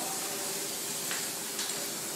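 An aerosol can of frosted glass paint hisses in a steady, even spray over glitter on repurposed glass, with a couple of slightly stronger bursts near the end.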